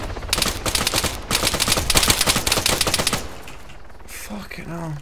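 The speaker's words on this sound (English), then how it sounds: "Why are you shooting me?" Rapid automatic gunfire in ARMA 3 on the island of Malden, two loud sustained bursts of closely spaced shots, followed by quieter background and a brief voice at the end.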